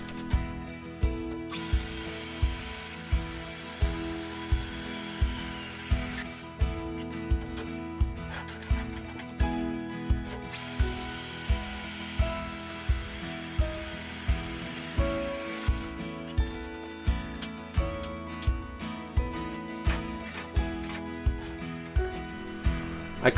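A bandsaw cuts 2 inch by 1/4 inch flat steel bar for tractor fork brackets, giving a steady mechanical drone with a regular rhythmic pulse and clicking throughout. No one speaks.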